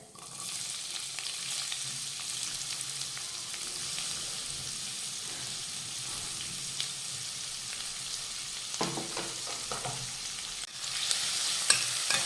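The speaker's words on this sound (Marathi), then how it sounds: "तर मंद ते मध्यम आचेवर हा कांदा परतून घेऊयात" Finely chopped onions sauté in a pan over a low-to-medium flame after cumin seeds, giving a steady, even sizzle throughout with occasional stirring scrapes near the end.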